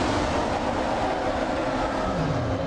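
A huge Reaper Leviathan glides past in Subnautica, a continuous loud rushing roar with a rattling low rumble, like a train passing close by, steady throughout.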